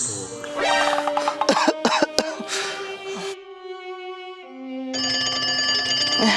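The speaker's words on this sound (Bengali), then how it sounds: "এখন আবার কে ফোন করে" A telephone rings loudly in repeated electronic tones, broken by a few coughs early on, then the ringing continues alone.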